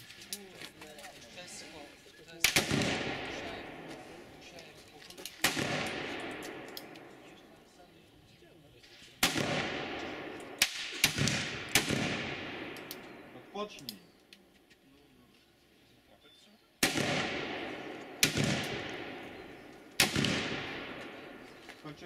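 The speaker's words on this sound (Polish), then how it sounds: "do lewej tarczy strzelamy 3 strzały." Black powder revolver shots ring out in bursts of three, each a sharp crack with a decaying tail, spaced across the stretch amid quiet background at a shooting range.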